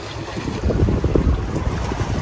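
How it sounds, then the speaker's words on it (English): Strong wind buffets the microphone in a low, gusty roar on an overcast day, with the sound of open water and a boat in the background during a grouper spearfishing trip. "It's pretty windy, pretty overcast today"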